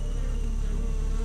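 Giant honey bees swarm in a dense, steady buzz that stays close and continuous throughout, with no voices over it.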